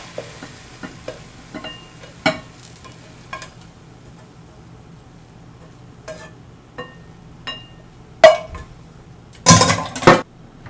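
Sporadic scraping and clinks of a spatula against a pan as yakisoba noodles are stir-fried, over a low hiss, with a few louder clatters near the end.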